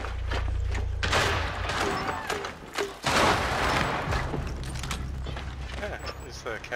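Gunshots and bursts of fire from a Rainbow Six Siege match on the Skyscraper map sound loud and dense, with thumps and booms over a constant busy game mix.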